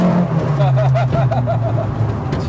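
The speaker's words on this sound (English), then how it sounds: "Hear them throttle bodies, boy." Peugeot 205 GTI engine on throttle bodies revving steadily from inside the car, a loud sustained drone with rising harmonics, with a voice talking over it.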